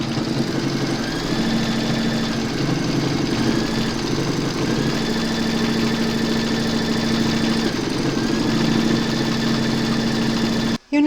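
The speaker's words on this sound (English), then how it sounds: "Load your matching bobbin and thread for the quilting of your coaster into your machine, and then you're going to stitch round number 4." A home embroidery machine stitches the quilting round on a fabric puzzle-piece coaster held in a hoop, giving a steady close mechanical drone with a fast stitching rhythm that runs without a break and cuts off abruptly at the end.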